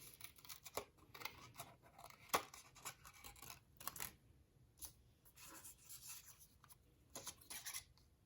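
Scissors cut paper scraps for a collage alligator craft, making quiet, irregular snips and soft paper rustling close by, with no talk.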